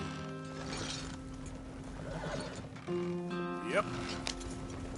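Horse hooves clip-clop alongside a whinnying neigh during a PS4 video game, with a steady hum of game sound underneath and someone talking briefly over it.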